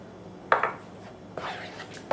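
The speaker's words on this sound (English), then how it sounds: "But now I'm just going to return it to our skillet" Blended tomato and chipotle salsa goes back into a skillet, with two brief clattering pan knocks followed by a softer, longer pouring and scraping sound and a final sharp clink, fairly close and without talk.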